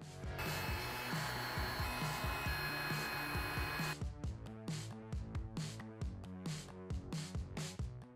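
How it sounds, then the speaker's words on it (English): A heat gun warms and reactivates glue on the inner fairing of a Harley-Davidson Street Glide, blowing as a steady, close whoosh for about four seconds, then giving way to rhythmic knocking and rubbing work noises. "Now you can use a heat gun to reactivate the glue on these."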